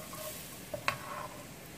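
Garlic for Japanese-style garlic fried rice fries in a pan over low heat, a faint steady sizzle with a couple of brief scraping clicks from stirring partway through.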